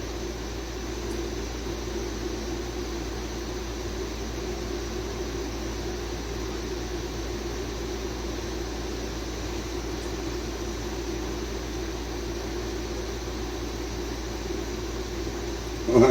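A motor drones steadily while mixing clay slip made from scratch, a constant even hum with a low mechanical rumble, unchanging for the whole stretch before a brief bump at the end.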